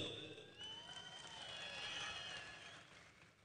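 Applause from a crowd at a political rally in Raigad, a distant, steady wash of clapping that swells slightly and then fades over a few seconds.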